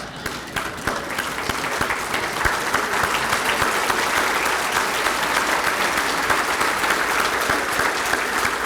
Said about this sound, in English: let's stand up and give a round of applause